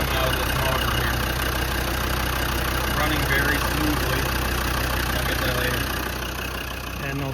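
A 1998 Land Rover Defender 110 with a Td5 diesel engine idling, a steady close low-pitched rumble with a faint clatter, continuous throughout, with someone talking over it.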